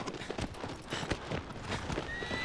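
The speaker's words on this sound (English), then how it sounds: "Minimal horse screeching." Agro, the horse in Shadow of the Colossus, gallops with rapid rhythmic hoofbeats and lets out whinnying cries over the running, fairly close and loud.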